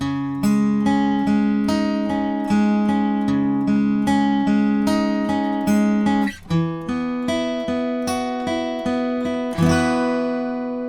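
A clean electric guitar plays the repeating picked pre-chorus riff of a song in ringing notes, then shifts pattern and ends on a strummed chord left to ring.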